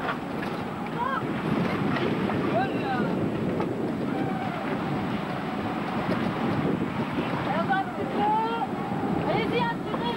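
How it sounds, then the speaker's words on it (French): Wind and rain lash a sailboat at sea, a steady roaring gust noise with spray and creaking under bursts of shouting voices throughout. "Le vent et la pluie nous fouettent."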